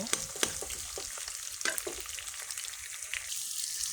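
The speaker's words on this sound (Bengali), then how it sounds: "তেলটা গরম হয়ে গেছে এবার এর মধ্যে দিয়ে দেবো কেটে রাখা পেঁয়াজ পেঁয়াজটা হালকা একটু ভেজে নেব" Chopped onion sizzling in hot oil for khichuri, a bright continuous crackle with scattered spatters and a few stirring knocks, close and fairly loud without talk.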